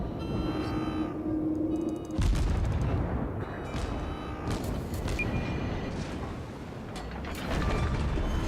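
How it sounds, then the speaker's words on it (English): Naval guns firing one after another in World of Warships, a sharp loud blast after a steady mechanical hum, followed by further thuds and rumbling over continuous engine and sea noise. "I will fire each gun in turn."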